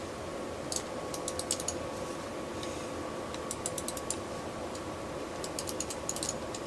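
Button clicks from a Razer Naga Epic gaming mouse, a scattered run of small, sharp clicks, some in quick bursts, over a steady low background hum.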